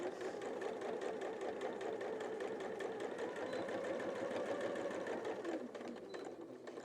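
A sewing machine stitches a tarot mat in a fast, steady mechanical rattle close up, then slows and stops near the end.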